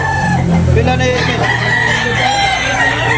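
A white hatch gamecock at a poultry sale crows loudly and close, its call overlapping with clucking from other fowl and a busy background of birds and voices.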